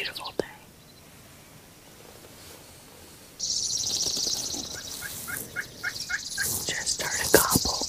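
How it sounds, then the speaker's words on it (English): Wild turkey gobbling on a spring hunt in Nebraska, a few rough bursts rising from a distance over open-air rustle and faint birdsong, with soft whispering nearby. "Just heard a gobble."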